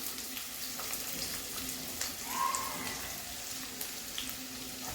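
Chopped onion crackles and sizzles as it hits garlic frying in oil for a spinach dish, a steady hiss with small pops and the scrape of stirring close by.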